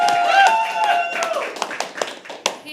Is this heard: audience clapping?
yes